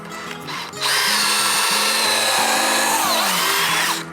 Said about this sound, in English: what I'm doing here is pre-drilling my ends